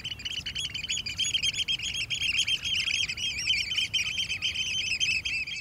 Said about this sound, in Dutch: Schoolexters zijn echte watvogels.